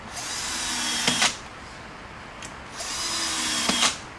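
Power drill driving screws into a wooden 24-inch table during assembly, heard as two loud whirring bursts that each wind down, with a short pause between them.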